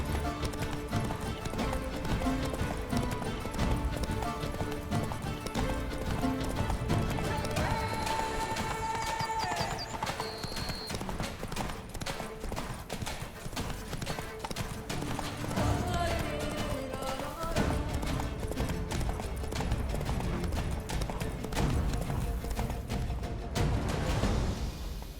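Horse hooves galloping in The Witcher 3, a steady rapid clip-clop that runs the whole way under game music and effects, with occasional speech.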